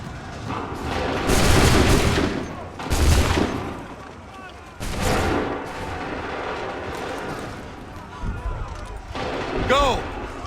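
Musket volleys on an Assassin's Creed 3 battlefield, several heavy booming bursts spaced a few seconds apart over rumbling din, with shouted voices between the blasts.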